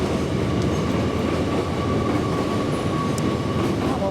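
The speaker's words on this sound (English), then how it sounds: "That was our train, and we missed it." A train passes on the railway close by, a loud continuous rumble with steady rolling noise and a faint metallic tone, no talking.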